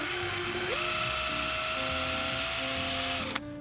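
A power drill bores through a plastic Hobie paddle holder, giving a steady high-pitched whine that holds throughout, shifts pitch early on as the bit bites, and cuts off abruptly near the end.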